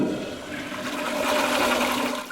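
A toilet flushes close by, a steady rushing gush of water that swells slightly toward the end and tapers off, with no voices.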